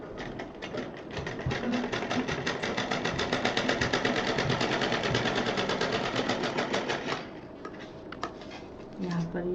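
A sewing machine stitching purse fabric runs in a steady rapid rattle for several seconds, then stops, with a few faint handling sounds after.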